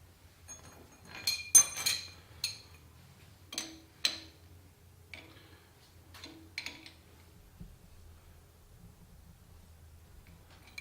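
An oil drain nut being put back on and tightened on an Exmark Lazer Z 52-inch mower, a quiet scattered series of metallic clinks and ticks, close and sparse, with long quiet gaps between them.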